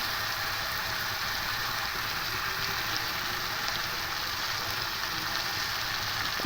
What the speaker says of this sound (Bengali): খুব ভালো করে একটু কষে নেবো